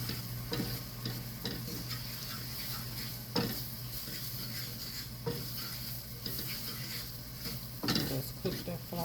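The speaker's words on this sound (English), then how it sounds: "Just cook that flour a little bit." Flour cooking in a hot pan for a loaded breakfast baked potato, a steady soft sizzle broken by repeated scrapes and clinks of a utensil stirring against the pan.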